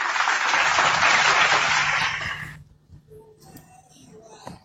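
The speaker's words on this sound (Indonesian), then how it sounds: "Tepuk tangan dulu" A crowd at a heated debate between a pastor and a speaker breaks into dense, loud applause that holds steady, then cuts off sharply, leaving faint room noise and scattered small sounds.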